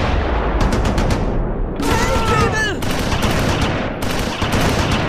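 Battle sounds from the Close Combat IV war video game: bursts of rapid gunfire and machine-gun volleys, loud and close, with a sharper explosive shot in the middle.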